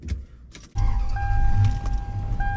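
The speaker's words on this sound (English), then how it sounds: "Then the next thing we want to do is turn the car on." A Toyota Land Cruiser 100 Series engine cranks and catches after a brief key rattle, settling into a steady, close idle rumble with a thin electronic chime tone running over it.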